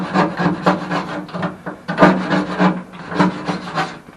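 Razor blade scraping paint off a Holden Torana UC car panel, repeated close, loud rasping strokes in an uneven back-and-forth rhythm.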